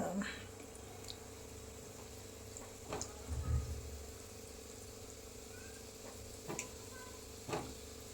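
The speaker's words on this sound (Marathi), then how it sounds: "असे तळून घ्यायचे बघा" Gulab jamun balls frying in hot oil, a soft steady sizzle with a few faint clicks and light scrapes scattered throughout, fairly quiet and close.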